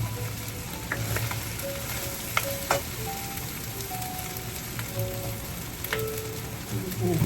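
Fried rice cooking in a pan, a soft, steady sizzle throughout with occasional light clinks and taps.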